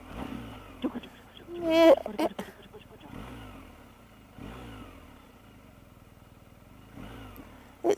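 A 2019 BMW R 1250 GS motorcycle engine revs in short bursts near the mic, a sharp rise then idling between blips, with a rider speaking briefly over it.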